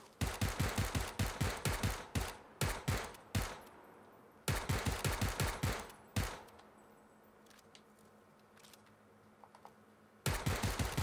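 A rifle set to single-shot fire in PUBG on Xbox One X sounds off in quick runs of sharp, loud shots, grouped into clusters separated by short silences.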